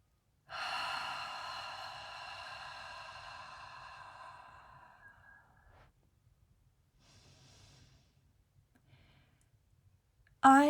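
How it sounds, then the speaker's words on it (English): One long, deep breath is drawn audibly close to the mic and fades out over several seconds. A faint second breath follows, then quiet. "Let's take a breath."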